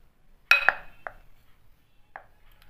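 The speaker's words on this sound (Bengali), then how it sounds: "এই আলু ভাজাটা ঢেলে ফেললাম" Fried potatoes tipped from a pan into a bowl, heard as a few sharp metallic clinks and scrapes, one loud clatter followed by two softer knocks, in an otherwise quiet kitchen.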